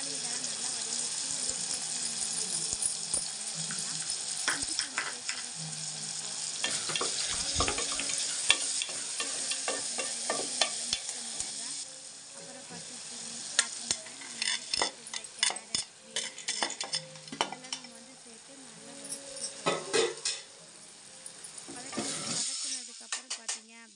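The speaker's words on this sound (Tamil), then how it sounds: "தக்காளி இதெல்லாம் நல்லா வதங்கிடுச்சு." Tomatoes sauté in a pan, with a steady sizzle and frying hiss broken by a spoon scraping and clinking against the metal as they are stirred, while a person talks intermittently nearby.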